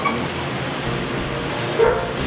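A dog held back on a tie-out, barking loudly and whining up close over a constant rumbling background noise, with no clear speech.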